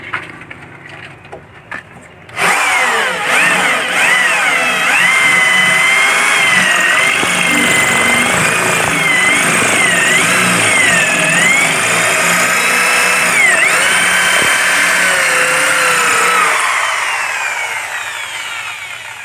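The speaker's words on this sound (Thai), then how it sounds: "เดี๋ยวผมต้องเจาะรูก่อนนะครับ" A power drill whines steadily and loudly for a long stretch, its pitch wavering as it bores a hole, after a few quiet knocks at the start.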